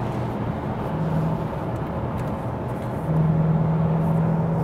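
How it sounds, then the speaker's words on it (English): Turbocharged VW Golf GTI Clubsport with 265 hp pulls in fourth gear at low revs, a steady engine drone with road noise from inside the cabin that rises slightly in the last seconds. "here just in fourth gear and put the throttle and car still accelerating, even at lower RPMs."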